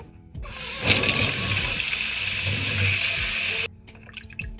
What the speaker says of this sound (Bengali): এবার মাছটাকে ধুয়ে নিব